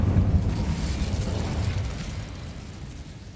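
The Incendio fire spell cast in Hogwarts Legacy bursts out as a loud whooshing, roaring blast of flame that holds for a few seconds and then slowly dies down, with no speech over it.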